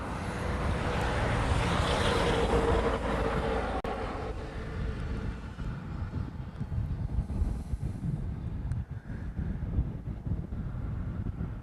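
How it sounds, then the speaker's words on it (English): An Airbus A380 airliner passes overhead on approach to Honolulu, a broad distant roar that is strongest at the start and then fades into steady wind and background rumble. "We have the first of 2 A380s currently crossing over Koalina"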